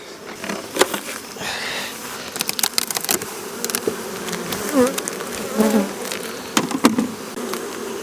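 Honeybees buzz at a hive in a dense, steady hum close by, with individual insects droning past and soft knocks and rustling handling sounds mixed in.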